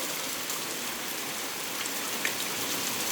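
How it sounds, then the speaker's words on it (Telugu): Hailstones fall with rain, a steady hissing patter of ice and water striking surfaces close by, with a few sharper ticks of individual stones standing out near the end. "ఐస్ గడ్డలు అక్కడ పడుతున్నాయి చూడు"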